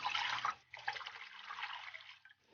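Two cups of water poured into a pot holding four pieces of yuanbao brown sugar, making a close splashing gush that breaks briefly, resumes, and trails off.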